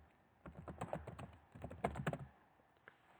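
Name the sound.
typing on a computer keyboard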